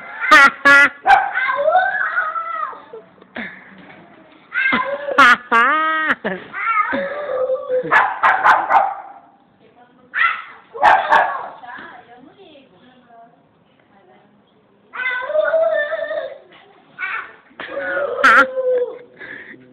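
A small dog barks and yips repeatedly in short bursts, close by, at a cat, with brief pauses between volleys and a whimpering tone at times.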